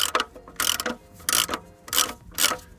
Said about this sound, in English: Crack that nut off anti-clockwise.